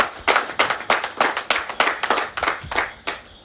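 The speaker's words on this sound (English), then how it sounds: "Lift a clap offering to that." A congregation at a religious talk claps in a brisk, fairly even rhythm, about a dozen sharp claps in quick succession, close and clear with no talking over them.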